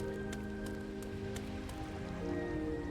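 Steady rain patters on a surface in a video game, with soft intermittent drips over a low ambient hum, continuous and fairly close.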